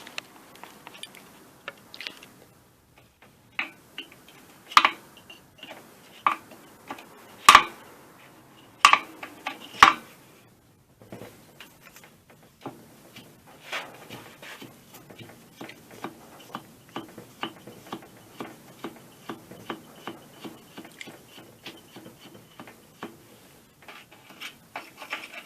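A nut being unscrewed by hand during an air compressor motor repair gives a series of faint, irregular ticking clicks and scrapes, with a few sharper metallic knocks near the start and a quicker run of light ticks later on.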